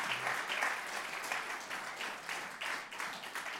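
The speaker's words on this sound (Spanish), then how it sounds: "si le va un aplauso, déselo bien fuerte al Señor" A church congregation applauds in a steady wash of clapping from many hands, sustained throughout with no pauses.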